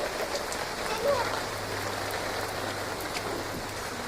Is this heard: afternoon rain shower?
yes